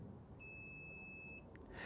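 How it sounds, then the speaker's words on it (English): A small electronic buzzer wired into an Audi TT kit car's electrics sounds one steady, piercing tone for about a second, then cuts off; the tone is loud and close against a quiet background. "that's quite a loud little beeper"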